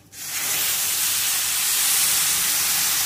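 Water hits hot pan-roasted besan for a Maharashtrian methi pithla, setting off a loud, steady hiss of sizzling steam that starts abruptly and holds unbroken for about three seconds, with no talk over it.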